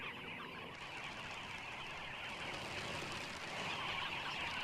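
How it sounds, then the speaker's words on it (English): A steady, dense chatter of many birds calling at once, a continuous noisy wash of chirps and squawks with no talk. "The noise and bustle of dozens of birds coming and going"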